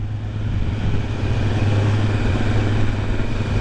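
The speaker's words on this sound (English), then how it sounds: "You can see how jerky it is when I'm on and off the throttle here" A 2023 Kawasaki Z900 motorcycle engine on a test ride, a loud, close, low rumble that swells slightly as the throttle is worked on and off, with no talk.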